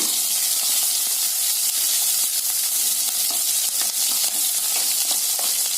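Red chilli, curry leaves, small onions and lentils sizzle and crackle in hot oil as they are stir-fried for a beans and spinach poriyal, a steady close hiss with frequent light stirring scrapes.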